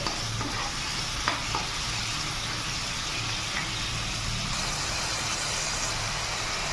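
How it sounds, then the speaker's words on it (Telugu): Ingredients for egg fried rice fry in oil in a pan with a constant, dense sizzle, while a few faint stirring scrapes come through and nobody talks over it. "దీన్ని బాగా ఫ్రై చేసుకోవాలి. ఎలా అంటే మనకి సైడ్స్ మొత్తం ఆయిల్ మొత్తం రిలీజ్ అవుతుంది, అప్పుడు దాకా దీన్ని ఫ్రై చేసుకోవాలన్నమాట."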